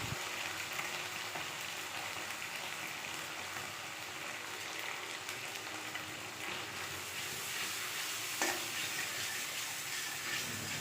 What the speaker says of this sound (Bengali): মশলাটা ভালো করে ভেজে নেব